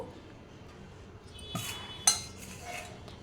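Knife chopping ripe tomatoes into medium pieces on a board while making rasam, giving a few sharp, close clicks and taps over a quiet kitchen background.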